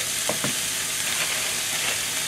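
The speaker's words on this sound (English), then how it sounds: "gently cook the vegetable first" Vegetables stir-fry in a wok for chicken fried rice, giving a steady close sizzle with a couple of quick scraping stir strokes near the start.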